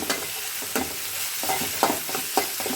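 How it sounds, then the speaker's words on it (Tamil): Grated coconut sautéed with onion and tomato in a pan for chicken gravy, a loud continuous sizzle cut by repeated scraping spoon strokes, no voices. "இப்போ வந்து ஒரு 1/4 மூடி தேங்காய் வந்து வெங்காயத்தோடு நம்ம போட்டு நல்லா வதக்கலாம்."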